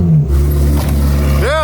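Ferrari 360 Modena fitted with an aftermarket exhaust, heard as a loud, close engine drone with a brief rev swell toward the end.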